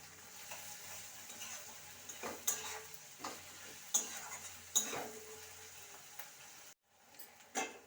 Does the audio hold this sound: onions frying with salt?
yes